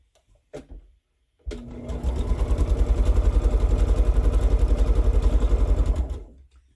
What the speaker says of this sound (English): I'll be sewing 2 blocks at once